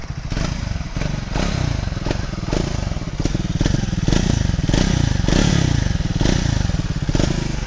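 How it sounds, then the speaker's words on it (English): A Triumph Speed 400 motorcycle engine revs close up, a loud, throaty pulsing roar that rises and falls in repeated bursts with a rough thumping beat and no talk. "Here it is nice, but while riding, the engine noise is not good."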